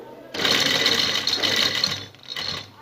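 Sewing machine sewing the centre seam of a lace neck design, a loud close continuous whir of stitching that eases off briefly near the end before resuming.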